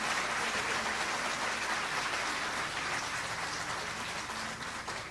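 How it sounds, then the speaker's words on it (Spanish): Sustained applause from an audience at a Peruvian music tribute event, a dense, even wash of clapping heard from some distance with no voices over it. "Un aplauso, que siente el cariño."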